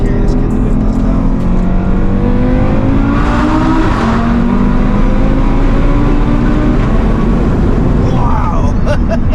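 Stage 3 Audi RS3 tuned to 700 bhp with a big turbo, accelerating hard in second gear on the street, heard from inside with the windows down: a loud, continuous engine roar rising in pitch, with voices talking over it.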